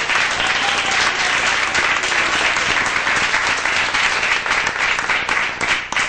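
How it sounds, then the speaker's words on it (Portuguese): A church congregation applauds steadily for several seconds, many hands clapping in a dense, continuous wash that stays loud throughout. "Vamos receber a nossa irmã com a saudação, com as palmas bem alegres para Jesus."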